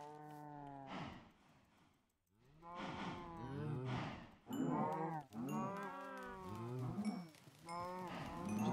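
Cows in a Minecraft cow crusher farm moo repeatedly, several overlapping low, drawn-out calls following one another at moderate volume with no speech.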